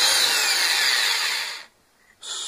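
A power drill with a bit whines loudly and steadily drilling mounting holes for a winter cover on a car's front grille, cuts off briefly into near silence, then starts up again.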